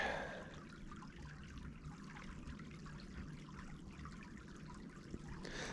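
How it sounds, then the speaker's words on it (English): Asher Creek's shallow riffles flow in a steady, soft trickle, a faint continuous wash of moving water close by with no voices over it. "I don't know if the microphone picks up the sound of the riffles underneath me"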